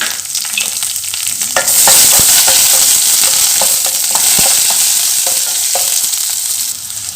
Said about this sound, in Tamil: இப்போ இதை சேர்த்து நல்லா வதக்கி கொடுத்துக்கலாம்